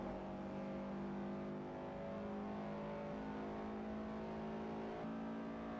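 Toyota Supra race car engine in Forza Motorsport 4 drones continuously, holding steady pitch with small shifts between gears, moderately quiet with no talk.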